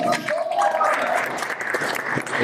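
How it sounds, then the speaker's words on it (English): An audience at a fashion shoot event claps in a brief, dense burst of applause, moderately loud, with some crowd murmur mixed in. "Give him a round of applause!"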